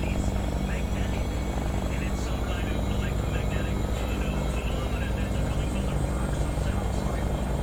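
Bell helicopter in the X-Plane 11 flight simulator, its rotor spooling up toward full RPM with a dense, steady whine and broadband rotor roar that holds constant and fairly loud throughout, with no voices.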